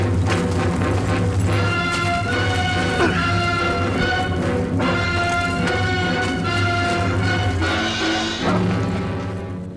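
Stock-library film score music from the low-budget horror film Murderdrone plays loud and continuous, with sustained layered tones, a steady low drone and periodic soft hits, alone without talk.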